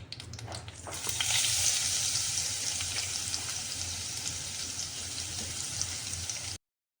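Chili masala with curry leaves fries in hot oil for kadhi, making a steady, dense sizzle that rises quickly and holds loud and even throughout, with no talk.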